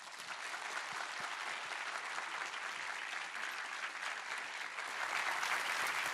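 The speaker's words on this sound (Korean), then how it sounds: "오늘 말씀을 전해주실 강사 목사님을 우리 뜨거운 환영의 박수로 맞이하겠습니다" A church congregation claps warmly to welcome a guest pastor at a Sunday service, steady dense applause from many hands filling the room without pause.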